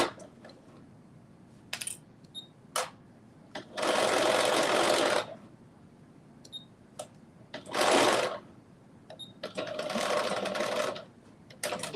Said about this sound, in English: I'm sewing these at 5/8 of an inch seam allowance.